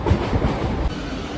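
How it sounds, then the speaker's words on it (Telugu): A train rumbles along the tracks near Ramagundam, a close, steady low roar with faint rhythmic clatter from the wheels. "ట్రైన్ అయితే వచ్చేసింది, ట్రైన్ అయితే ఎక్కేసాను."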